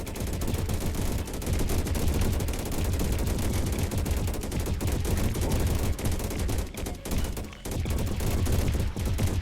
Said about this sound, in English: lots of laser cannons in that little choke point as well.